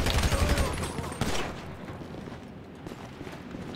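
Gunfire in the video game GTA 5 Online crackles in a loud, dense burst for about the first second and a half, then fades into quieter scattered background noise.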